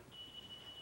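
A phone gives a faint, thin high electronic beep, repeating in short pulses over a quiet room background.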